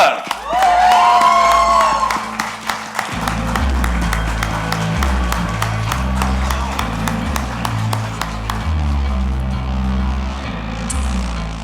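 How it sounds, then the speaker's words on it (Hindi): Large audience at a grand launch event for the Mirzapur season 3 show erupts in loud cheering and sustained applause, with whoops and shouts over steady clapping and thumping music throughout. "जोरदार तालियों से स्वागत कीजिए फरहान"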